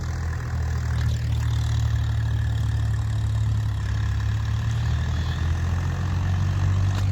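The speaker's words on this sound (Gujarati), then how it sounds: "મારા પપ્પા ટ્રેક્ટર ગંજે છે બાટી રોટાવેટર લઈને" A tractor engine runs steadily while pulling a rotavator through a farm field, its low, continuous rumble holding close and loud throughout without pause.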